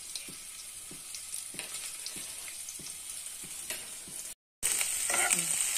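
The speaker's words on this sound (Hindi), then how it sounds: "देखिए मेरा ऑयल गर्म हो गया। अब हम इसमें जीरा डाल देते हैं थोड़ा सा, और साथ में हरी मिर्च डाल देंगे।" Cumin seeds, green chili and grated ginger sizzle steadily in hot oil, a dense close hiss with light spoon taps, briefly cutting out before returning louder and brighter.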